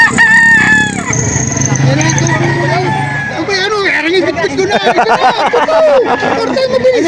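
Roosters crow loudly and chickens cluck close by at a livestock auction market in Lipa, with people talking in the busy background.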